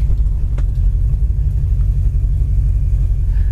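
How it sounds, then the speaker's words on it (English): Warmed-up 1966 Ford Fairlane XL V8 with a rebuilt transmission idling up close, a deep, steady, even rumble with no revving and no talking. "Motor sounds great."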